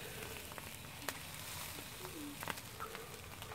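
A Samoan-style lamb stir-fry sizzles steadily in a pan, a soft continuous frying hiss with scattered crackles and pops, close and fairly quiet, with no talking.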